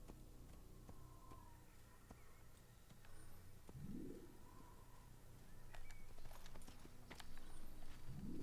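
Horse hooves clip-clopping at a gallop in the Assassin's Creed video game, a steady, fairly faint rhythm with bird cooing and calls mixed into the background.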